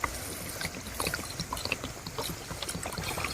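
Water poured at a Gaddi shepherds' camp while food is cooked, heard as a close, uneven splashing and trickling with small drips and knocks, moderately quiet and with no talking.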